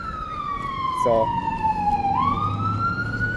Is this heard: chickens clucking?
no